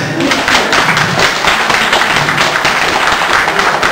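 An audience claps loudly and continuously in applause welcoming a Sir Francis Drake performer at a Caribbean-themed art gallery opening, a dense and steady burst heard close.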